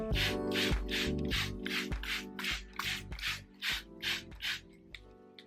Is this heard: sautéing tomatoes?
no